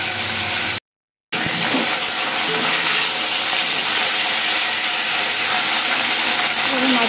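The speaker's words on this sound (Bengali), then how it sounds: "মাছটা ভেজে নিলাম" Bhetki fish head frying in mustard oil gives a steady, loud sizzle and hiss that fills the whole stretch, broken only by a brief dropout near the start, with faint stirring underneath.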